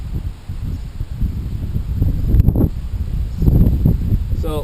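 Wind gusts buffet the microphone outdoors above a canyon lake, rough low rumbling and rustling that rises and falls in loud surges with no words spoken.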